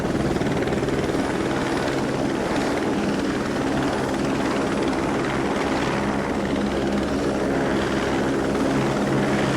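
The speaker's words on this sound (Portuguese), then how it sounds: "Às 10h35 da manhã, os primeiros helicópteros americanos decolam e começam o voo de 13 minutos" American military helicopters take off and fly in formation toward a landing zone in Vietnam, a loud continuous rotor thrum and turbine roar filling the air without pause, close and steady throughout.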